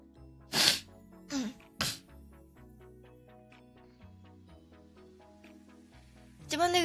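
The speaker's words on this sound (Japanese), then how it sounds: "ちょっとくしゃみでそう。" A person sneezes sharply, with a couple of short breathy sounds around it, over quiet background music.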